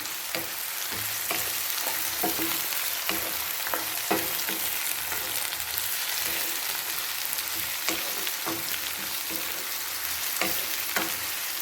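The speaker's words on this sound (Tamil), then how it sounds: "ஒரு ஏழு நிமிஷம் வதக்கணும் போதும் தக்காளி நல்லா ரெண்டு நிமிஷம் வதக்கிட்டு" Brinjal and tomato sauté in a pan, a steady soft sizzle and crackle broken by frequent clinks and scrapes of a stirring spoon, close by with no talking.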